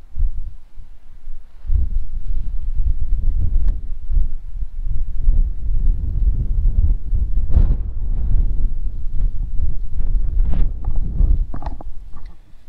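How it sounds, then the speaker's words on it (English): Wind on a hilltop at Kinder Scout in the Peak District buffets the microphone in low, rumbling gusts, loud and uneven, with no talk. "The wind's dropping now"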